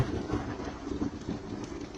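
Steady heavy rain falls outdoors during a thunderstorm, a dense continuous hiss with a low rumbling undertone and no voices.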